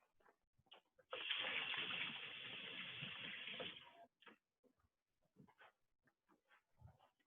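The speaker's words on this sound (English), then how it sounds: "Let me just wash my hands." Water runs steadily from a kitchen tap for about three seconds during hand washing after preparing fish tacos, a broad hiss standing alone before quieter clatter and small sounds return.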